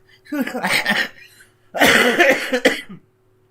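Two harsh bursts of coughing, each about a second long and separated by a short pause, fairly close and loud with no talking.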